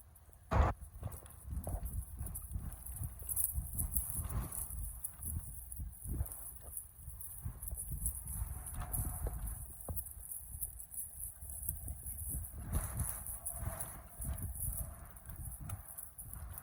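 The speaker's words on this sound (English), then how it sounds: "That's a big hill for such a puny horse." Horse hooves clip-clopping steadily uphill on a farm, a continuous rhythmic plodding of a small horse that stays fairly close and moderately loud, with a short sharp knock near the start and no talking.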